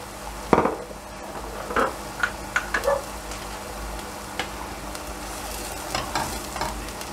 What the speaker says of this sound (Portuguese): Vamos mexer bem para misturar com o nosso aroma de alho, com o azeite